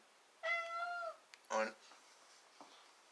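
A house cat meows twice indoors, a drawn-out tonal meow followed by a shorter, sharper one, fairly close but soft against a quiet room.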